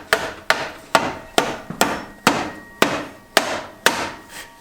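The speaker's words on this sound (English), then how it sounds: "just used a hammer as a hammer" Eleven sharp, evenly spaced blows from a rubber mallet, each a dull thud with a short ringing tail, close up and steady.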